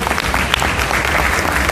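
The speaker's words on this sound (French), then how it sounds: "Je pense qu'on peut encore applaudir" Steady applause from a convention audience at a gaming show stage event, a dense continuous patter of many hands clapping throughout, fairly loud and close.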